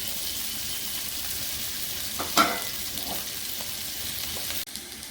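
Red and green capsicum sautéing in a pan, a steady soft sizzle with occasional stirring scrapes and clinks, close and fairly quiet, no talking.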